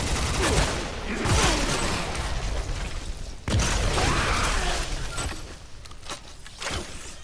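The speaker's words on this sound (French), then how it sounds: "J'aime le fusil à pompe, franchement." Gunfire from a pump-action shotgun in the Bulletstorm video game, heard as repeated loud blasts and clattering mechanical sounds through a busy action mix, with a sharp fresh burst midway.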